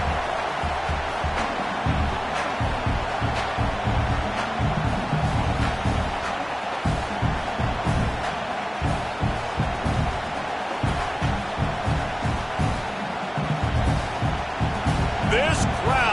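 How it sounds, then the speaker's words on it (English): A stadium crowd at a football game roars in a loud, continuous wall of noise that holds steady throughout, while a commentator talks over it. "This crowd, full throat, spreading the eardrums and letting them know it's going to be a long day."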